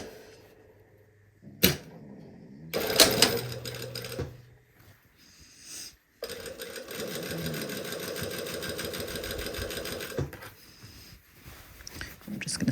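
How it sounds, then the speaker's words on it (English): Sewing machine stitching piping along a garment neckline, close by, running in short bursts with pauses and handling clatter, then a longer steady stitching run. "we are sewing right along that previous stitch line"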